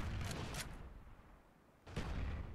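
Bursts of gunfire in the video game Call of Duty: Black Ops multiplayer, a quick volley at the start and another sharp burst near the end, with a quieter stretch between.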